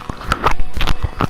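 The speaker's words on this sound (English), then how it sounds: "Can you chew any fucking louder?" Loud, close chewing with wet smacking bites in a quick irregular rhythm, heard alone for a moment.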